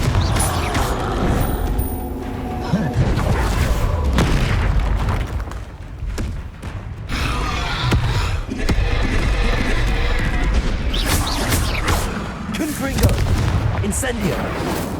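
Repeated booming fire-spell explosions cast in Hogwarts Legacy combat, several loud blasts with rumbling tails spread across the clip, mixed with battle noise and occasional voices.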